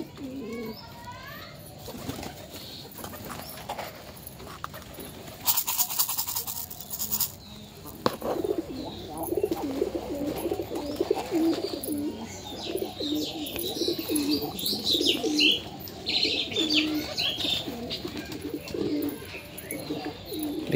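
A mix of new and older domestic pigeons coo repeatedly at close range, with scattered chirps and rustling and occasional speech over steady background noise.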